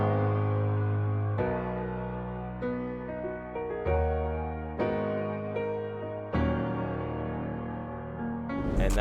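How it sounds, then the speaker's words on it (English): Sustained piano chords from the Alicia's Keys virtual instrument in FL Studio, changing every second or so in a slow progression, played alone at moderate loudness with no voices. "I started with a piano. It's Alicia's Keys from Contact."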